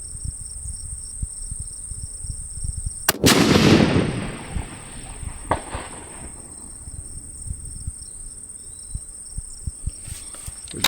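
A 7mm PRC rifle fires a single sharp, loud shot at a long-range testing bench, with its report rolling out and fading over a second. Steady crickets buzz in the background, and faint distant thumps follow.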